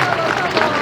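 Applause for the family at a wedding reception, a dense wash of clapping from a crowd that runs steadily through the whole short moment, with voices mixed in.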